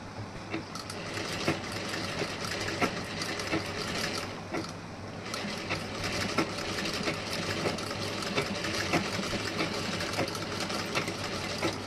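A sewing machine runs steadily while stitching the front of a blouse, a close, continuous rapid mechanical whir and clatter with slight pauses and changes in pace and no talking.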